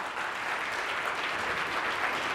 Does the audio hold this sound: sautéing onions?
no